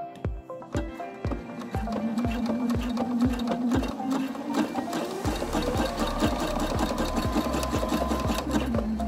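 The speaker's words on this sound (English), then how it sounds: "We sew 1 to 2 times across the band, forward and backwards." A sewing machine stitches across the elastic waistband of swim trunks in rapid, even mechanical ticks, starting slower then running a fast, steady burst up close.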